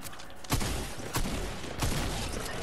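Three loud, sharp gunshots from a new lever action shotgun in a video game, spaced about half a second to a second apart over steady game background noise.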